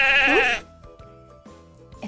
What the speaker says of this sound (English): I'm hearing another sound. Where do you think it's coming from? It's a sheep.